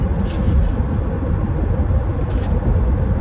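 A car being driven gives a loud, steady low rumble of engine and road noise from inside the cabin, with no talk over it.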